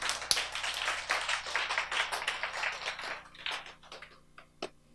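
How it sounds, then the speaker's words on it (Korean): Audience members at a Korean sermon clap together in a brisk, dense burst that thins out into a few scattered claps and one last sharp clap before it falls quiet. "여러분 박수 쳤죠?"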